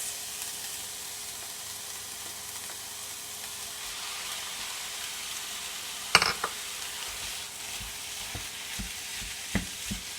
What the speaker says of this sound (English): And then you can add beef mince.